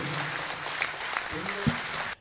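Audience applause for a contestant on a Tamil television competition show, steady clapping from a studio crowd that cuts off sharply at the end, with a host's voice over it.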